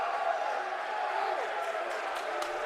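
Crowd noise at a college men's wrestling championship match, a broad steady roar of cheering spectators filling the hall with no break, loud and continuous through the late moments of a tight bout.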